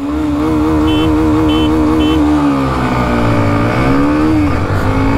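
A Hero Xtreme 125 and a Bajaj Pulsar NS125 motorcycle drag race, their engines close and loud, revving hard and climbing through the gears in a continuous rising whine.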